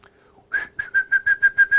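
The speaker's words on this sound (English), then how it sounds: "I can whistle loudly" A sharp, high whistled note followed by a rapid series of short, evenly spaced loud whistle pips, close and clear.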